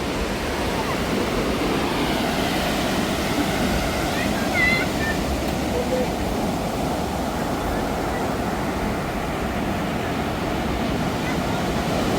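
Sea waves roll onto the shore in Phuket as a steady, loud wash of surf with a windy rush. The sound continues without break.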